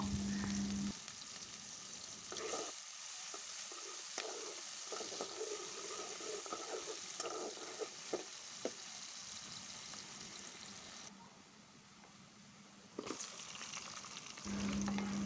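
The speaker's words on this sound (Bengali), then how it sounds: "পেঁয়াজটাকে একটু নরম করে ভেজে নেব" Chopped onion frying in oil until soft, for a hilsa fish curry with elephant foot yam: a constant hissing sizzle, close and steady, with bursts of stirring and scraping through the middle.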